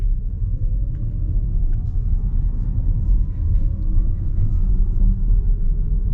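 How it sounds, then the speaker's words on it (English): A 2024 Jaguar I-Pace electric car gives a faint rising motor whir over a heavy, steady road and cabin rumble while driving, without any speech. "you just hear a little bit of whirring. Kind of sounds like a spaceship a little bit."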